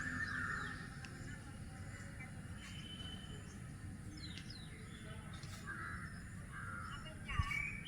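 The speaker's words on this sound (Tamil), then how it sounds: "காக்கா கத்துது." A crow caws a few times at a middle distance near a home garden, its short calls rising over a steady low background rumble.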